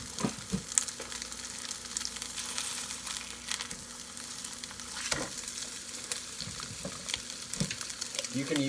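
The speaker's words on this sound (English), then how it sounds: "So our pan is nice and hot. So I'm going to toss a little bit of oil in there." A little oil heating in a hot pan, giving a steady close sizzle and crackle with a few scrapes and clicks scattered through it.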